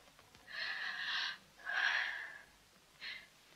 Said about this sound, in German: Ich möchte noch einmal tief atmen.